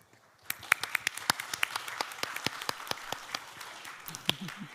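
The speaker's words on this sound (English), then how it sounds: "let's welcome them with a big round of applause" A conference audience at an AI summit claps to welcome speakers onto the stage, a quiet, fairly distant patter of applause with sharp individual claps standing out, starting half a second in and continuing to the end.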